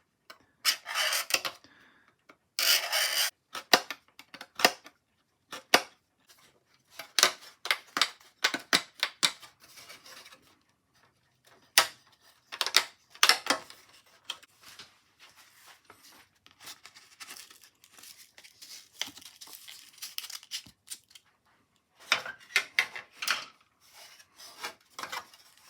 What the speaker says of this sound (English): One way to cut through plastic is use the back side of an X-Acto blade, and you just score along here.